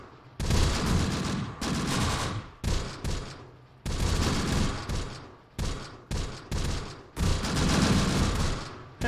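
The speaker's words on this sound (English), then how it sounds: "I don't know if these mortars are actually hitting anybody." Mortar rounds firing in the World War II strategy game Close Combat: The Bloody First: about ten loud, close blasts in uneven succession, some long and rumbling, others short and sharp, each with a decaying tail and no talk.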